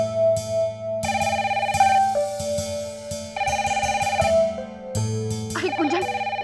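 A telephone rings indoors in a Hindi TV drama scene: a loud, steady electronic ringtone melody repeats in bursts with short gaps, clear and close, with no talking over it.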